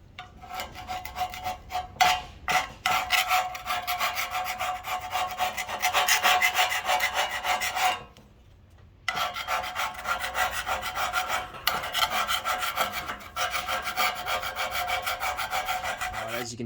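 Paint being stripped off Holden LH Torana car bumpers, a close, loud scraping and rubbing in repeated strokes, with one short pause in the middle and no talk.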